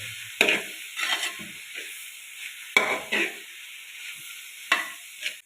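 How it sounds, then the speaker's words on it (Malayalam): Green spinach thoran is stirred in a hot pan, giving several distinct scraping strokes with short sizzling bursts between quiet gaps, close up and with no voices. "ഒന്നും കൂടെ ഇളക്കി കൊടുക്കാം"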